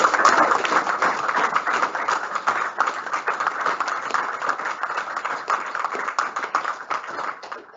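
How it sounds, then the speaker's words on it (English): An audience at a 2021 junior school prizegiving claps for the Junior Sportsman of the Year, a dense, sustained round of hand claps that stays loud throughout with no talk over it. "Round of applause for him, please."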